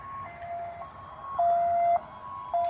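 A faint two-tone siren alternates steadily between high and low pitches, getting a bit louder toward the end over quiet background.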